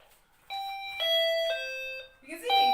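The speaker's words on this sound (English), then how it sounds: "If I were to ring this, anybody rings the doorbell," An apartment doorbell chimes several clear electronic ding-dong tones in sequence, fairly close and loud, with a voice joining briefly near the end.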